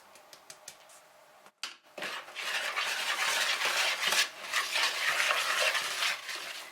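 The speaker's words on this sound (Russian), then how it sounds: "Постепенно замешиваем эластичное тесто." Dough of processed cheese and sifted flour is worked by hand, making a soft, continuous sticky squishing and smacking after a few light taps, close and fairly quiet, with no talk.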